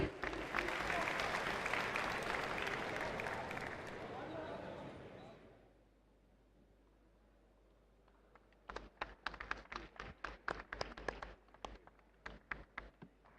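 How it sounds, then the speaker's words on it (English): A large crowd at the ABU Robocon 2023 national robot contest in New Delhi claps loudly for the referees, the applause fading out, followed after a pause by scattered sharp individual claps. "Please give a huge round of applause for our referees."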